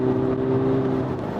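A front-wheel-drive Peugeot 5008 SUV picks up speed on a test drive, its engine holding a steady, fairly loud drone under road noise, with no voices.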